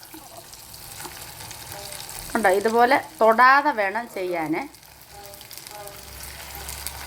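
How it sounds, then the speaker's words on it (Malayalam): Beef pieces dropped one at a time into hot, bubbling coconut oil sizzle and crackle steadily, with someone speaking close over the frying noise. "നല്ലവണ്ണം എണ്ണ തിളച്ചിട്ടുണ്ട്. നമ്മൾ അതിലേക്ക് നമ്മൾ ഒന്നിനെ തൊടാതെ ഓരോന്നാണ് നമ്മൾ പെറുക്കി ഇട്ട് കൊടുക്കേണ്ടത്."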